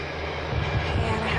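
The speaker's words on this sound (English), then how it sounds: "Sorry about the fan." An electric fan runs in a small hot bedroom, producing a steady low whooshing hum with a faint rhythmic flutter throughout the brief moment.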